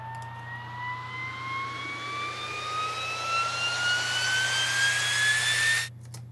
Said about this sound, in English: the classic riser that I use on pretty much every song